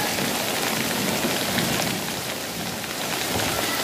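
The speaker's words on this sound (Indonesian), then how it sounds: "Mudah-mudahan ya Allah hujan segera surut" Heavy rain pours down steadily during a flood in Cibingbin, Kuningan, with thigh-deep water. It is a loud, dense, unbroken hiss of rainfall, with no voices.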